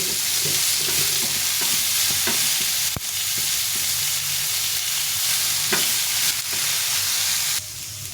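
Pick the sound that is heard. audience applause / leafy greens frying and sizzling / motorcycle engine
leafy greens frying and sizzling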